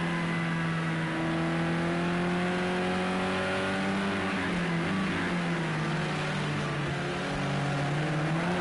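Heard from onboard, a modern touring race car engine drones at high revs through a lap of Oulton Park Island circuit. The steady roar rises and falls with gear changes and throttle, loud and continuous, with no talk.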